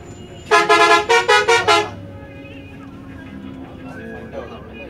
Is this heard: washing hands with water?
no